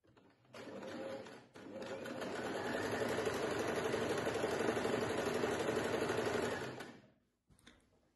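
A sewing machine stitching a buttonhole into a scrap of fabric, a close rapid mechanical whir that starts, briefly stops, then runs steadily for several seconds before winding down, followed by a short final burst.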